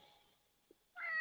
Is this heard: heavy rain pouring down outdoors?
no